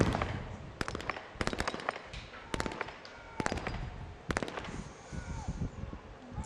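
Sniper rifle shots ring out at a SWAT competition, several sharp loud cracks in short clusters, some doubled, over a noisy outdoor background of distant crowd and wind.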